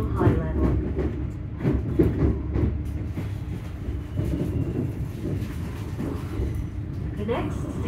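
A passenger train bound for Glasgow Central High Level rumbles along steadily with rhythmic rail clatter, while an onboard announcement voice speaks over the noise.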